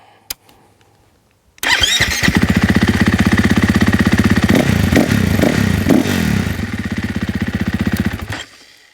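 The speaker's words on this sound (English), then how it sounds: "More like a motorcycle, less like a sewing machine." A 2024-26 KTM 500 motorcycle engine fires up after a brief quiet moment, then idles loud and close with a rapid staccato thump, blipping through several quick revs before cutting off.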